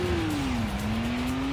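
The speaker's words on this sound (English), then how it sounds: "Handbrake turn." Car engine in the Stuntman video game during a handbrake turn, a steady loud drone whose pitch dips and then levels off, with faint tyre noise beneath and no talking.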